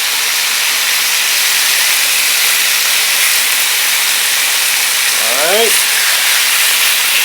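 Oxtails sear in a large crowded pan with a loud, continuous hiss of sizzling fat; a voice speaks a single word briefly near the end over the frying.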